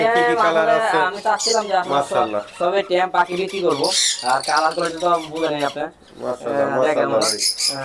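Young parrots squawk loudly and repeatedly at close range, a dense chorus of harsh, rising calls with only brief pauses.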